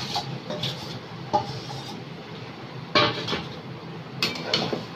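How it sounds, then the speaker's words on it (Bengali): Chicken pieces go into a pan of oil-released fried masala for chicken chaap, with a handful of sharp metallic clinks and scrapes of utensils against the pan standing out over a steady background. "এবার আমি চিকেনগুলো দিয়ে দেবো।"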